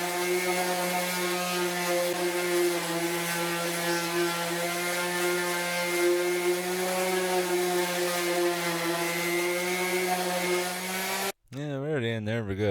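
Sanding a length of PVC pipe by hand for a bird feeder build: a steady, even abrasive rasp with a tonal hum running nearly unbroken for about eleven seconds, then a brief pause and a short different scrape at the end.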